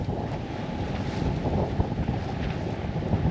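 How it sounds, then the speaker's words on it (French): Steady wind of about 13 knots buffeting the microphone aboard a sailboat, over a low rumble of water and hull noise, continuous and fairly loud with no voices. "on a un petit 13 nœuds de vent."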